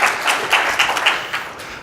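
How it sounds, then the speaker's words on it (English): Applause at a security conference talk from BSides DC, a room of attendees clapping in a short, loud burst with a few distinct louder claps standing out, thinning as it fades within a couple of seconds. "Big round of applause for that guy"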